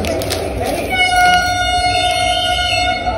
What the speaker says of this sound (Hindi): अरे तेरा ट्रेन चल रहा है